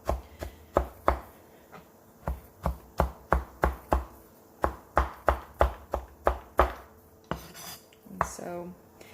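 A knife chops a tomato on a cutting board in a home kitchen, about fifteen sharp, evenly paced strikes up close, ending with a brief scrape and clatter.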